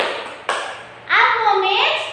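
Group of children doing a rhythmic spirit clap in a classroom, a few sharp claps standing out before young voices chant loudly together.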